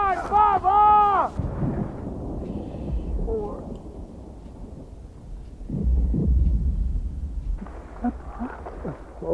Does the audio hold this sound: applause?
no